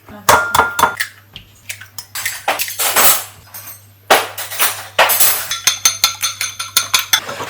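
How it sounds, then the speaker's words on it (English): Kitchen clatter while eggs are beaten for an omelette: close, rapid clinks and knocks of utensil against a bowl in uneven bursts, with louder rhythmic strokes toward the end and a steady low hum underneath. "So I never normally whisk my eggs when I make an omelette"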